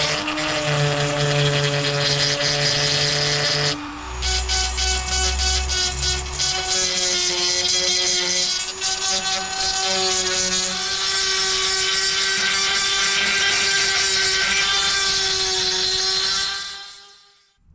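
A Dremel with a small grinding wheel removing rust and paint from the tridion body of a 2008 Smart Fortwo 451, a steady high whining grind that shifts pitch as it bites into the metal, close and loud, then winding down at the end.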